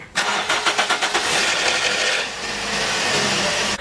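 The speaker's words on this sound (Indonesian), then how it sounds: "Cara pertama untuk memastikan apakah aki mobil sudah soak atau belum, yaitu dengan menstarter mobil." A car's starter motor cranks in a quick, even rhythm for about two seconds before the engine catches and settles into a steady idle. It is heard up close, alone, in a check of whether the car's battery is weak.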